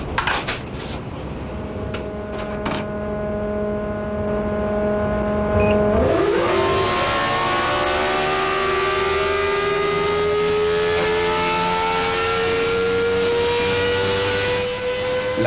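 Renault V10 Formula 1 engine on a qualifying lap at Hockenheim, a loud continuous high-pitched scream that drops and then climbs steadily through the gears with one sharp upshift, preceded by a few clanking knocks.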